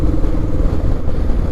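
A motorcycle rumbles steadily and close while being ridden on a test run, with a continuous low engine drone, no talk over it.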